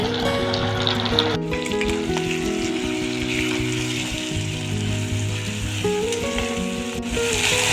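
Spice paste sizzles and fries steadily in a pan for niramish mochar ghonto, a close continuous crackle with occasional stirring and no talk.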